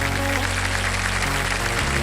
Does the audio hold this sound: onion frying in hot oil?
no